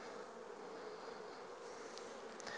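Honeybees hum in a dense, steady drone around a hive colony during an ivy nectar flow, close and continuous with a few individual bees passing near.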